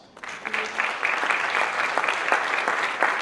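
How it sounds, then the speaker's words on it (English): Students at a top 5% celebration applaud their parents: a crowd's clapping swells quickly after a brief quiet start and holds steady and fairly close for three seconds. "students, give your parents a round of applause"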